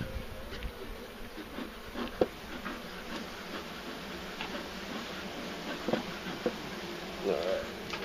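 Honey bees at an open hive in an old beehive being inspected, a faint steady buzz with soft clicks and handling noises, and a person talking quietly at times.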